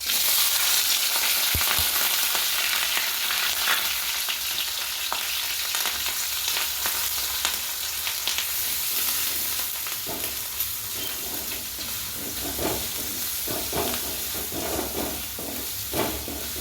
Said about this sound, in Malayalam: ഇനി നമുക്കതിലേക്ക് വെളുത്തുള്ളി ചതച്ചത്, ഇഞ്ചി ചതച്ചത്, പച്ചമുളക്, വേപ്പില